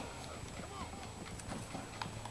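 Horse hooves clip-clop in Red Dead Redemption, a steady run of soft repeated hoofbeats in a Western setting, heard under faint talk and game background.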